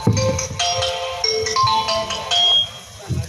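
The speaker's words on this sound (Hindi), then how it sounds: "इतने में छोटे बेटे खालिद का फोन आता है। घंटी बजती है" A phone ringtone sounding during a madrasa stage drama as a son calls, playing a bright, repeating electronic melody loudly and alone for several seconds.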